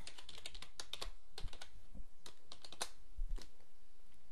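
Fingers type on a computer keyboard while code is being entered, giving quick, uneven bursts of crisp key clicks with short pauses between them. The sound is close and fairly quiet, with no speech.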